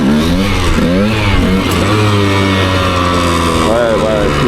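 A motorcycle engine held in a wheelie on an AliExpress wheelie bar, throttle reopened, the revs rising and swelling in a steady loud drone. It is close and continuous, with a rider's voice partly over it.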